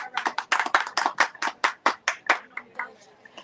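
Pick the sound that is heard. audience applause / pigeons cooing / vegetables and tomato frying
audience applause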